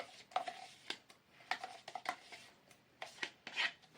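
Raisin cupcake batter stirred in a bowl, giving soft intermittent scraping and clinking strokes at an uneven rhythm, fairly quiet and close with no talk.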